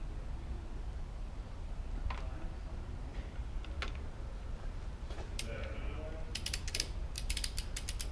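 Torque wrench ratcheting while a propeller is hung on a Cessna 175, a quiet series of rapid metallic clicks in short bursts toward the end, over faint steady hangar background noise.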